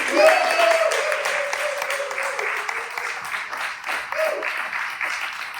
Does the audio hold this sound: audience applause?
yes